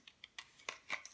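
Scissors snip through paper while cutting out a cup wrap for a handmade Christmas card, about six quick, light, crisp cuts close by, fairly quiet.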